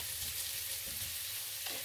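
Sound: diced onions sautéing in a pan

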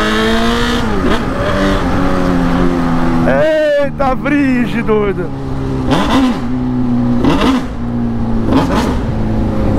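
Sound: Honda Fan motorcycle with straight exhaust pipe revving

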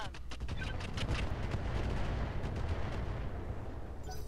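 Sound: mech weapons firing incendiary rounds in the video game Roguetech

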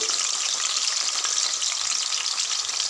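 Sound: potatoes deep frying in a pan

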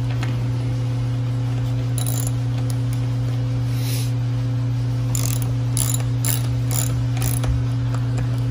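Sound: ratchet tightening bolts during mini jeep assembly

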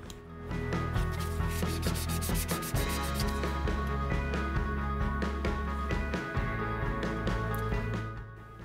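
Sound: sanding plastic model with sanding block

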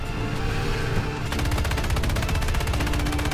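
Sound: machine gun firing in War Thunder video game

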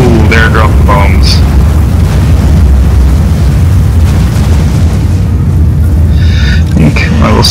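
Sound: bombs dropped by gyrocopters exploding in Total War Warhammer video game

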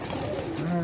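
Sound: bird cooing

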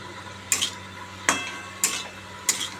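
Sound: stir-frying katla fish with salt and tomato in a pan

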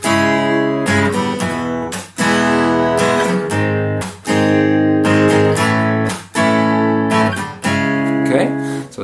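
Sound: guitar strumming pattern with slaps

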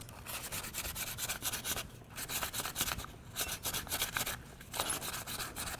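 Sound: sanding a fishing lure with sandpaper

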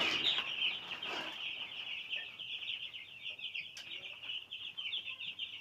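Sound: chickens clucking on a poultry farm

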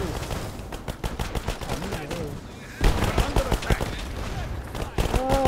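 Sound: gunfire in video game War Alert WWII

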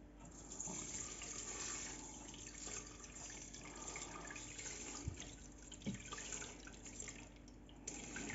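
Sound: water poured into kitchen machine

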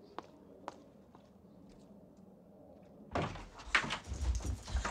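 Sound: door being opened

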